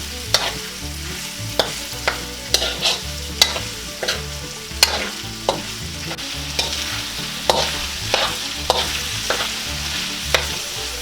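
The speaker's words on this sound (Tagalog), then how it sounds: "Pagkatapos po ay hahaluin lang po nating maigi." Pork tripe for adobo stirred in a pan with soy sauce, a spoon scraping in repeated sharp strokes over a steady low sizzle, close and alone with no voices.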